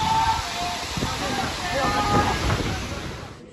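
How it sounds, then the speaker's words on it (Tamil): A mountain waterfall in the Kolli Hills gives off a steady broadband rush of falling water that stays close and even for a few seconds, with voices faintly mixed in. "இதான் அருவி"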